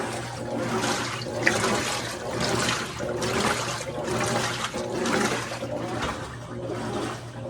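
A GE top-load washing machine with a stripped agitator sloshes water during its wash cycle, a steady, fairly loud churning with rhythmic surges over a low motor hum.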